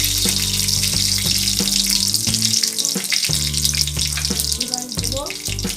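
Spice powder sizzles in hot oil for a Bengali rui fish curry, a steady close hiss of frying, with someone talking over it in short phrases.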